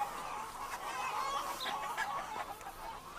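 Chickens clucking on a farm where they forage among cow patties behind an eggmobile, a steady close flock chatter of overlapping clucks and soft calls with no voices.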